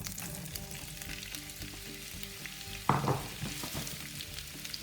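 Zucchini hits a hot pan and sizzles, a steady frying hiss that swells with a sharp burst as the slices go in, then settles into continuous crackling.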